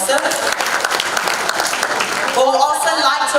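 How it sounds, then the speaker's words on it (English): Applause from a conference audience at an energy-sector event, a dense, steady wash of many hands clapping together for several seconds, loud and close, with some voices mixed into the clapping. "Please, a round of applause also."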